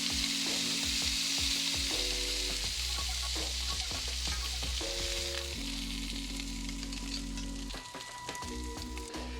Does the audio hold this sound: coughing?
no